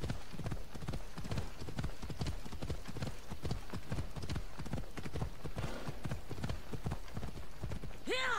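Horse hooves in Assassin's Creed Odyssey clip-clop in a steady, loud gallop rhythm that runs the whole time, ending in a short whinny near the close.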